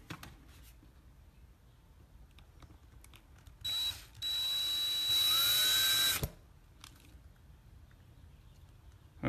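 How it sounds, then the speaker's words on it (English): A power drill bores out a part on a Case 2090 tractor, a steady high whine running about two and a half seconds, close and loud over quiet workshop background. "Probably could have taken it out without even drilling it, I suppose."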